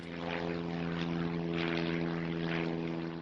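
A corporate jet arriving near Sonoma County Airport gives a steady, droning engine roar with a constant tonal hum, loud and unbroken throughout, with no voices.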